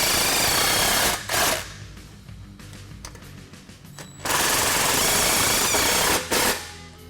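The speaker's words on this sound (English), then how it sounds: "Tighten up both clamps with a 15mm socket." Loud bursts of a power tool driving a 15mm socket to tighten exhaust clamps on a 2007-20 Jeep Wrangler 4-door Borla cat-back install, two long whirring runs with short stutters between, close by.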